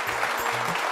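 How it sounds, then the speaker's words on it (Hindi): Studio audience applauding on an Odia television dance reality show, a loud, dense burst of clapping filling the whole moment, with a faint low musical tone beneath. "बिल्कुल जोरदार ताली बजियो"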